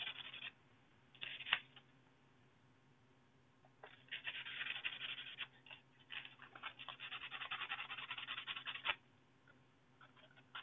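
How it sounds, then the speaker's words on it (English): Sandpaper polishing the claw of an SA Sports Crusader recurve crossbow: close, dry rubbing strokes in several bursts separated by pauses, the longest stretch running steadily for about five seconds. "take the sandpaper and polish it, make sure it's real nice and smooth"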